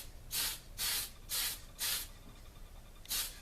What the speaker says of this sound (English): So let's go ahead and start spraying that.